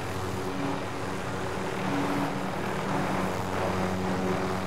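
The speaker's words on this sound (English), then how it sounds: "The parachuting guys have a helicopter." A steady, droning video game helicopter rotor and engine roar in a battle royale match, with a constant low hum, loud and continuous throughout, no voices.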